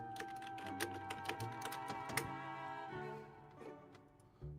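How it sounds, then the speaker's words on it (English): Someone types on a computer keyboard nearby during a tabletop role-playing session, in quick irregular clusters of crisp key clicks that thin out toward the end, quiet and without speech over it. "I hear Tippy typing."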